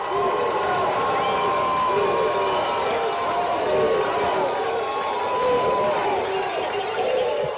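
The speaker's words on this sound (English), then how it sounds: "Listen to this crowd." A high school football crowd at a Batesburg-Leesville home game against Abbeville roars steadily in a dense, sustained wash of cheering and shouting that holds loud from start to finish.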